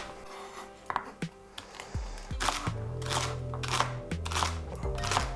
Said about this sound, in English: So just chop off the ends and then just cut them into the small pieces